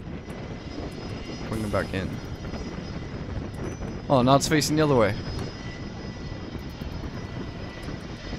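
A droning airplane engine from a Rimworld mod holds steady throughout, swelling briefly in the middle, while someone talks over it in two short bursts.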